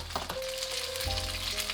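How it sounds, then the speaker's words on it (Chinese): Wontons sizzling steadily in a generous layer of hot oil over medium heat, a continuous close crackling hiss with a faint tonal hum underneath, no voices. "油热后倒入馄饨，煎馄饨要不停地晃动煎锅，让它受热均匀。"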